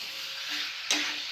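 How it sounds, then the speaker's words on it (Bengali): Ground peanut paste stir-fried in a pan for Mughlai chicken, a soft, brief hiss of frying with one sharper scrape of stirring near the end. "এখন আমি এই পর্যায়ে দিয়ে দেবো যে বাদামটা বেটে রেখেছি সেই বাদামটা। এটাকেও আমি একটু কষিয়ে নেব।"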